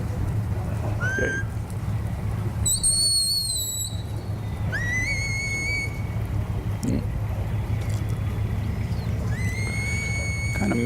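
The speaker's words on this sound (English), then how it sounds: "I heard Mike's whistle" Whistle commands from a sheepdog handler at a cattle herding trial in an indoor arena: several sharp rising and falling blasts, some short and some drawn out, sounding clearly over a steady low background hum.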